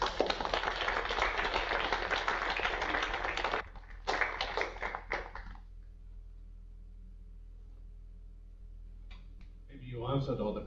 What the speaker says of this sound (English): Let's give him the usual virtual applause.